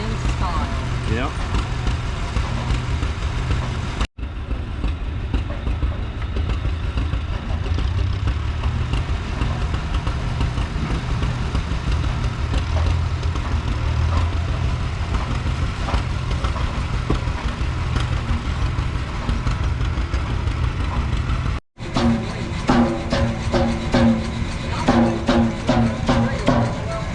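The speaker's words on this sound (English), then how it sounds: "It's a 125 horse Cooper Bessemer double cylinder engine." A 125-horsepower Cooper Bessemer two-cylinder engine runs at a steam show, giving a continuous low, thudding drone. The sound is briefly cut twice, and faint voices mingle in the background.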